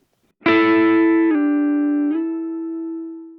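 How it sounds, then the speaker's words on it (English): A sustained guitar double stop slides up twice in steps, ringing out clearly and alone with a bright, slightly edgy tone. "These sorts of double stop slide are a bit trickier."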